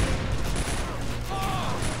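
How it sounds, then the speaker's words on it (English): A dense burst of machine gun fire in the World War II strategy game Faces of War, rapid, loud and close, a continuous rattling barrage over rumbling battle noise. "Oh, we got another machine gun."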